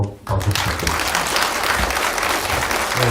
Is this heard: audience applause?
yes